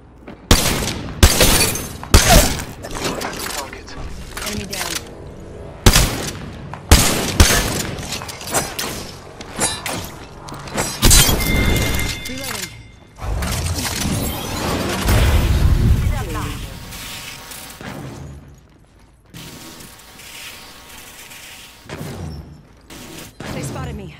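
Rapid bursts of gunfire and loud booms in a fast Apex Legends firefight, with shots in close succession and a player talking over the action.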